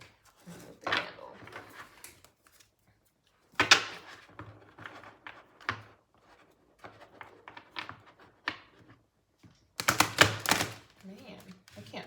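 Bursts of papery flicking and rustling as oracle cards are shuffled, stopping and starting in short bouts, close by.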